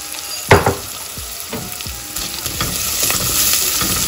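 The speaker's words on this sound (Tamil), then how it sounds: "இப்போ அது கூட நல்லெண்ணெய் வந்து ஹீட் ஆனதும் சின்ன வெங்காயம் வந்து சேர்த்துக்கிறேன்" Shallots drop into heated sesame oil for mutton soup with a sharp hiss, then keep frying in a steady crackling sizzle with a few stirring scrapes, close up and with no talking.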